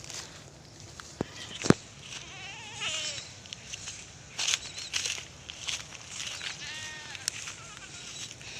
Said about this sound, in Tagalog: Yan, kambing nung tito ko yan oh.